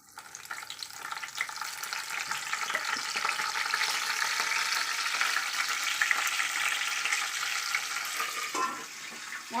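Two sprigs of curry leaves sizzle in hot oil for tempering a ladies' finger (okra) curry: a steady, moderately loud frying hiss that swells and holds for several seconds, with no voices.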